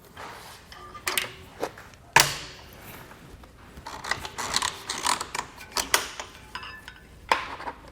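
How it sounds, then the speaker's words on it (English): Plastic tab buttons pressed on the straps of a Hollywood Racks Destination E bike rack for two electric bikes, giving a series of sharp clicks and clacks scattered irregularly, one louder snap standing out among the quieter ones. "You just push in on these buttons on the tab and releases the strap"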